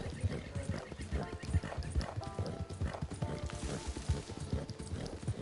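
Horse hooves clip-clop in the Red Dead Redemption Online video game, a steady rhythmic trotting of distinct hoof strikes close by, with faint background game sounds.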